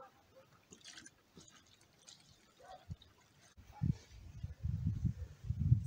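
Water poured by hand onto the soil around a newly planted gooseberry bush in a garden, a few soft splashing pours growing heavier toward the end, close and fairly quiet.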